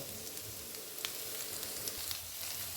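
Spring onions sizzle steadily while being stir-fried in a pan, with a soft, continuous hiss and occasional small crackles close by.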